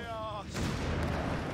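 Tank cannon fire in the video game Company of Heroes 3, a heavy booming blast with a rumbling tail, preceded by a brief voice and tonal game sound.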